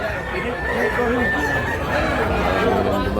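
Roosters and other fowl crow and cluck amid a busy, crowded market at Tabunok, Talisay, Cebu, with a long crow rising over dense chatter and voices of buyers nearby.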